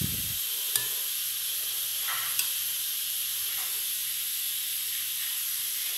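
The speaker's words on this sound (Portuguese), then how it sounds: "esse barulhinho de fundo que vocês estão ouvindo é a minha panela de pressão que eu tô cozinhando feijão" A pressure cooker cooking beans hisses steadily in the background, a constant bright, airy steam hiss with a few faint clicks, moderately quiet throughout.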